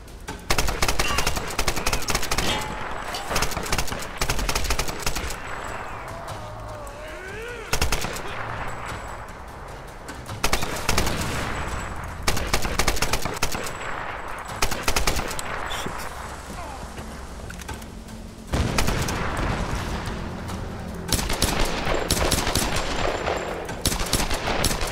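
Gunfire in Tomb Raider (2013), dense and continuous throughout, with rapid automatic bursts and loud shots carrying on nearly without pause and only brief breaks between them.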